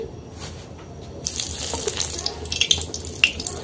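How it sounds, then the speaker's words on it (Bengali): Peanuts, about 100 grams, fry in the same oil used for chana dal while making crunchy dal chanachur, giving a steady hiss and crackle that grows louder partway through with scattered sharp pops. "100 গ্রাম বাদাম একই তেলের মধ্যে ভেজে নিচ্ছি।"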